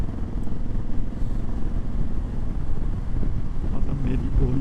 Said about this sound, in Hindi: मेरा जो मोटरसाइकिल का एग्जॉस्ट है ना वो काफ़ी लाउड है।